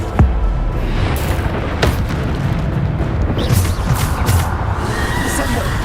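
Bombarda explosion spell from Hogwarts Legacy, with a couple of sharp booming bursts over dense game noise and a voice speaking in the background.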